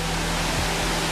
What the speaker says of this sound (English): So this is Wat Chacharan waterfall, the second waterfall on our trip.